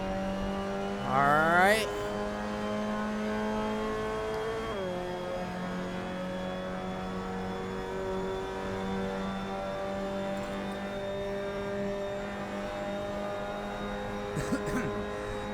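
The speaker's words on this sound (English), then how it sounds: "A little too much playing with the gas pedal there." A Mazda Miata MX-5 Cup car engine in a racing simulator revs sharply at the start, then holds a steady, buzzing drone throughout, with a brief throttle blip near the end and someone talking over it.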